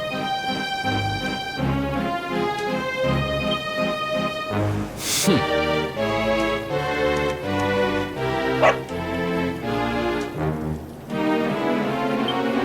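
A dog barks repeatedly in Dragon Quest XI, set against looping game music with steady melodic notes and occasional sharp hits.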